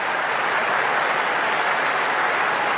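A large cricket crowd at an Indian Premier League final between Royal Challengers Bengaluru and Gujarat Titans roars and applauds in a dense, steady wash of cheering that fills the whole moment.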